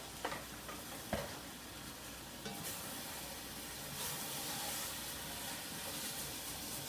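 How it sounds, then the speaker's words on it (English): Potato and kale curry with coconut milk and vegetable stock simmers in a pan, giving a steady sizzling hiss, with a few scraping knocks of the spoon early on. No one talks. "Scrape the bottom up."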